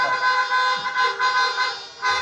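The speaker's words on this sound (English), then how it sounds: "You got that horn honking good." Several car horns honk in overlapping bursts at a political rally in Miami, some sustained and some pulsing, blaring at a steady moderate level from a crowd of vehicles.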